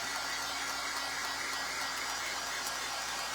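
Hair dryer drying hair during a soft makeover, a steady close whooshing blow of air and motor whine running continuously without pause, no voices.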